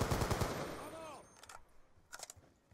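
A burst of rapid automatic gunfire from a video game weapon rattles loudly at the start, then short sharp volleys follow after a pause.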